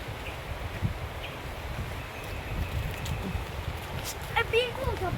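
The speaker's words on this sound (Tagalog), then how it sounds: "Yan, lakas na ng hangin" Strong wind rustles leaves in an outdoor vegetable garden, a steady dense roar with gusts and a few faint bird calls on top.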